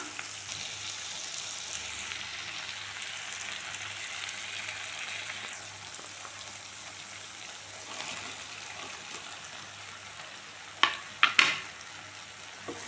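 Bread pieces are tossed with sautéed onions and stirred in a pan, making a soft, steady frying hiss that ends in a few sharp utensil clinks against the pan.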